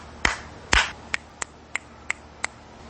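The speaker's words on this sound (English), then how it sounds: "We're going to do a little clapping, clearing on that one." Seven sharp hand claps at an inner-child healing session, irregularly spaced: the first two are louder with a brief ringing tail, and the following five are quicker, lighter single smacks, with no voices.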